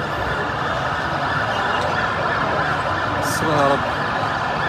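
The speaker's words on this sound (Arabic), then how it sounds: "المطافي جه اهو الحمد لله" A fire engine siren arriving at a blazing petrol station, heard as a steady wail among crowd noise and traffic while a voice keeps praying over it.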